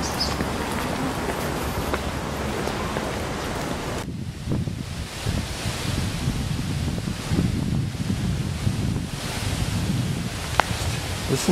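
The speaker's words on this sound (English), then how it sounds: "Listen to the wind." Steady wind blowing across the old wooden buildings of the Hokkaido University campus in Sapporo, a continuous broad rushing with gentle gusts that keeps up throughout, with no talking.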